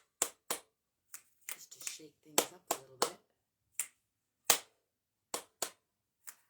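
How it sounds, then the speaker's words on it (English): Hand claps and finger snaps in an uneven, playful pattern, sharp and close, with someone talking between and over some of the hits during a relaxed stretching session before bed. "Let's do some snap claps."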